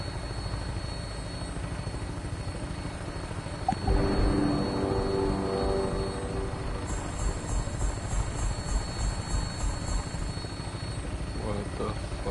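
An aircraft engine starts up in the Fallout 76 video game, with a rising mechanical whine and throbbing rotor-like drone that swells after a few seconds and holds steadily beneath a continuous background hum.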